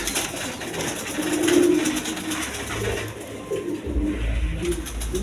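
Fancy pigeons coo softly in a farm loft, the low murmuring rolls rising and falling over steady background hiss and a low rumble, with no talking.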